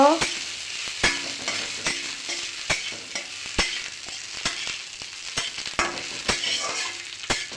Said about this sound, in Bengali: এক চামচ ঘি দিয়ে কিশমিশ এলাচ দিয়ে ভেজে নিচ্ছি।